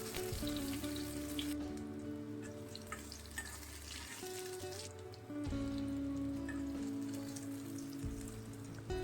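Boiled potatoes fry in hot oil in a wok for Bengali aloo dum, a soft, steady sizzle like light rain beneath sustained background music.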